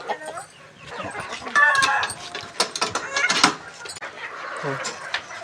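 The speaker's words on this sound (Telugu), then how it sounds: "ఇక్కడ పెద్ద పుంజు ఉన్నది చూడండి," A big Janakipuram rooster clucks and calls near a garden shed, giving brief close bursts over low mechanical clatter.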